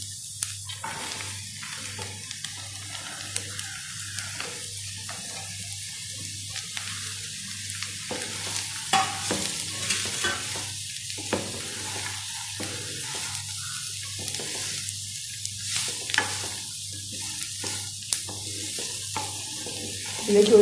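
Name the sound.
chopped pumpkin frying and being stirred in a pan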